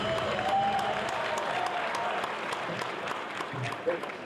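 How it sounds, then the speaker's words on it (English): An audience applauds at a talk on Nigerian youths, technology and politics, a steady, moderately faint patter of clapping hands that carries through the whole stretch, with a voice briefly audible over it. "Can we give another round of applause?"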